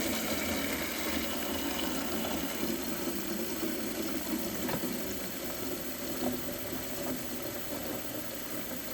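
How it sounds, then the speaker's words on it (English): Water runs steadily from a tap into a plant-watering container, a constant broadband rush with a faint mechanical hum underneath, close and uninterrupted for the whole stretch. "And then we are simply gonna fill up this container."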